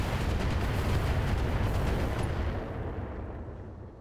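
Missile turret fire and explosions from the BattleTech video game form a dense, sustained roar of blasts and rumbling booms that fills the clip, then eases slightly toward the end, with no talking over it.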